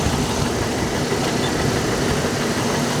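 Steady, even idle of a 1996 Jeep Cherokee's 4000 cc engine, a close broadband mechanical hum with no talking.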